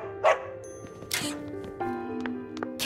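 A dog barks in Psychonauts 2, a few short yips and barks spread over a few seconds, mixed with game chimes and effects, close and fairly clear.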